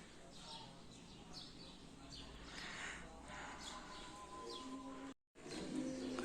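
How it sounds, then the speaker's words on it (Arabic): Small birds chirp and tweet in quick, bright bursts against a low background rumble, with a brief dropout near the end. "سامعين صوت العصافير؟"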